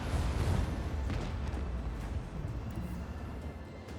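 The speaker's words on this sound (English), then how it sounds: "Macro cannon, open fire" Macro cannon firing in the video game Rogue Trader, a heavy, sustained low rumble of booming fire that starts loud and slowly fades over several seconds, with no voices.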